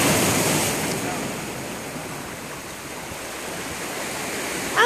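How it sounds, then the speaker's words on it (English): Ocean surf washing onto the Maui shore, a steady close wash of small waves mixed with wind rumble on the microphone, swelling slightly at the end. "The waves aren't big enough today."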